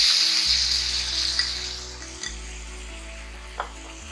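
Fresh cream goes into a pan of frying semolina rava dhokla and sizzles in a steady, hissing wash with a few brief clinks, and a constant low hum runs underneath.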